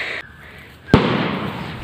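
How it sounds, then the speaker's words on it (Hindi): A firecracker bursts with a sharp loud bang, followed by a sustained crackling hiss over the next second, heard outdoors in a jungle during a hide-and-seek game. "उधर एलेक्स लोग बम फोड़ा है"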